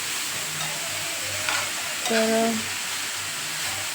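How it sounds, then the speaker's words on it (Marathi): Chopped spring onion greens and fenugreek leaves are stir-fried in a pan for a Khandeshi bharit meal, a soft, steady sizzle under repeated scraping and tossing strokes, with a brief tonal sound partway through. "व्यवस्थित असं मिक्स करून घ्यायचं तर व्यवस्थित परतून द्यायचं आहे"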